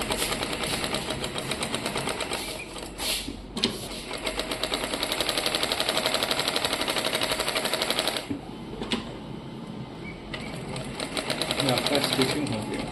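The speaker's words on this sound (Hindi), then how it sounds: "अब इसको चारों साइड से स्टिच करेंगे" A sewing machine stitches around all four sides of a multifiber test fabric for a colour fastness to water test. Its rapid, continuous mechanical chatter runs close with brief pauses, and a voice talks over it.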